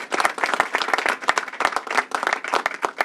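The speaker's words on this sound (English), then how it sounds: "let's give her a round of applause as well" An audience at a public announcement on SNAP benefits applauds the Commissioner of Education, a short burst of brisk, dense clapping from a sizeable crowd.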